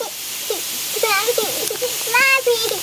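A water sprinkler hisses steadily in a backyard during summer play while young children chatter and squeal over the spray.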